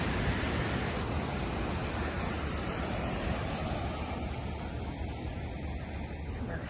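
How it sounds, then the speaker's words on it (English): Ocean surf and wind at Bolsa Chica, a Southern California surfing beach beside Huntington, form a loud, constant broadband roar of breaking waves with wind buffeting the microphone and no pauses. "And clearly surfers, it's a good surfing beach. Ooh, someone just caught a good wave."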